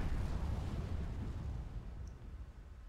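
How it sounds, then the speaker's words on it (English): Deep, rumbling planetary bombardment explosions from a space strategy game roll on together as one loud, dense roar that slowly fades, with no speech over it. "Ground forces are under planetary bombardment."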